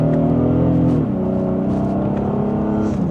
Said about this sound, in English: Just a small acceleration.